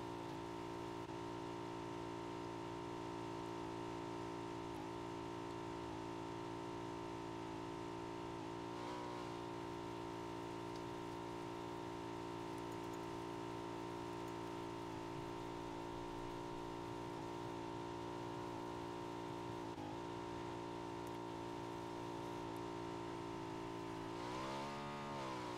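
Motorcycle with sidecar missing a wheel, driven in PUBG, a steady mid-pitched engine drone running continuously for the whole stretch, with brief pitch swells near the end.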